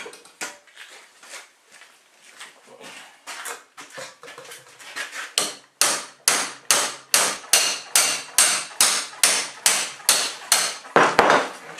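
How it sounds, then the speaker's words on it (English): A big hammer pounds on a stuck steel shaft with sharp metallic blows, a few scattered taps at first, then a long run of heavy strikes in a steady rhythm, loud and close. "When in doubt, get a bigger hammer."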